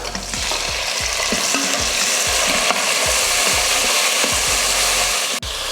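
Small onions and tomatoes sautéing in a pan for hotel-style sambar rice, a loud continuous close sizzle broken by regular rhythmic stirring scrapes throughout, no talking.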